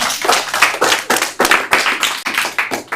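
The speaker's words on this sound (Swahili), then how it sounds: "Mpige makofi." An audience claps steadily together at a live-streamed gathering, with dense, continuous hand claps swelling and dipping in quick waves and no talk on top.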